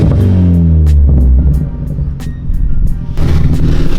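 A Ford Focus ST with a straight-piped MBRP turboback exhaust held on two-step launch control, loud and close: a droning idle that climbs in pitch, then sharp popping cracks and a renewed rough burble.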